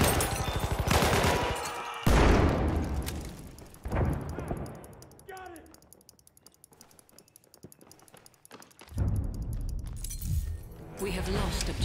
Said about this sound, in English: That's an enemy machine gun!